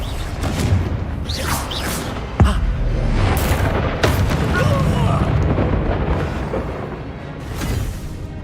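Spell explosions from a Hogwarts Legacy battle, a sharp boom near 2.4 seconds and another around 4 seconds over a dense, roaring layer of game effects and score, with voices mixed in.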